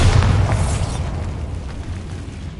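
A Bombarda spell explodes in Hogwarts Legacy, a loud, heavy boom with a deep low-end rumble that slowly fades into a long debris-filled decay.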